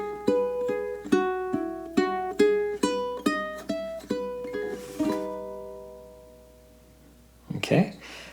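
Ukulele playing measures 3 to 4 of the opera aria Nessun Dorma, about ten plucked chord strums in a steady rhythm, close and clear, then a long ringing note that fades before a brief rustle.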